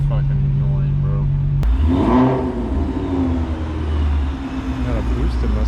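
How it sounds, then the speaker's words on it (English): A boosted Ford Mustang revs nearby, its engine note rising and swelling loudly over a steady low rumble, with people talking in the background. "Got a boosted Mustang over there."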